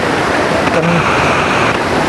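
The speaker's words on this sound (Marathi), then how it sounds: "बघू शकता बऱ्यापैकी उंचावरनं पाणी पडतं" Kinalos waterfall in Konkan, Maharashtra, water dropping from a fair height, a steady dense rushing roar filling the whole stretch without pause.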